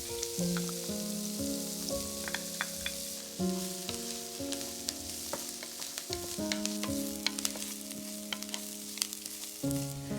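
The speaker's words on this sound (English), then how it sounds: "add in the butter, onion and garlic and cook until the onions are caramelized and golden brown" Butter, onion and garlic sizzle steadily in a deep pan over medium heat, a close, even crackle heard alone while soft music plays underneath.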